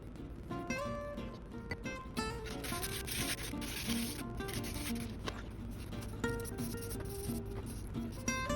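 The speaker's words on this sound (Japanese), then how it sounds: "ナットは削って低くして弾きやすくしていきます。" A file works down the nut of a cheap Playtech junk guitar, making continuous rasping strokes that are rhythmic and close throughout.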